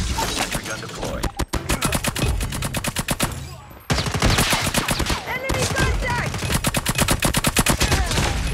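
Rapid sustained automatic fire from a deployed sentry gun in the mobile shooter game Call of Duty Mobile, loud and close, in long dense bursts with a brief pause midway and scattered game voice callouts.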